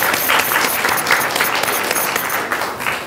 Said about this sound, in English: Parents and students, will you please give yourselves a round of applause for being here today?